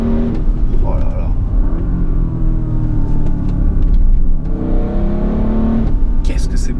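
An Audi RS Q8 engine drones and revs steadily along a freshly paved mountain road on Tenerife, close and loud, as a person talks over it. Distinct exhaust pops are hard to pick out.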